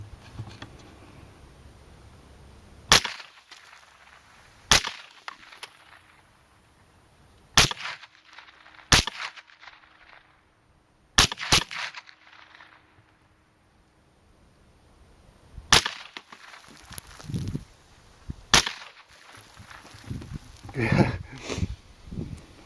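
Smith & Wesson 15-22 rifle firing Mini Mag rounds outdoors while plinking, sharp close cracks spaced irregularly, several shots with pauses between them, a couple fired in quick pairs, with faint movement noise in the gaps.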